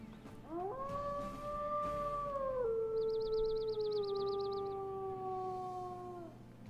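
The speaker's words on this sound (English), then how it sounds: "he has the traditional howl as well." A wolf in the video game WolfQuest gives a long, sustained howl that rises, holds steady and slides gently down over several seconds, loud and close, with a faint warbling tone partway through.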